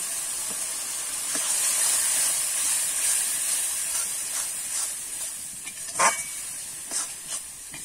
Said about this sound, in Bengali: মশলাটাকে আমি ভালো করে এবার কষিয়ে নেব